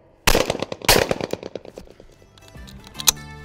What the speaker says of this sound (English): Now on that one, it was a perfect shot, as you see on the second shot, driving through.